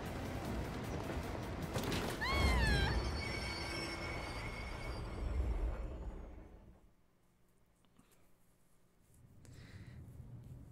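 A train in the Persona 3 Reload video game rolls along rails with a loud rumble, and sharp wheel squeals rise near the start, then the sound fades and swells again.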